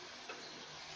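Food being stirred in a frying pan gives a faint, steady sizzle with soft scraping and clicks from the stirring, heard alone with no talking.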